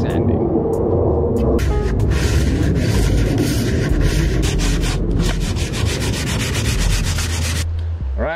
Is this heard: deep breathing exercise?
no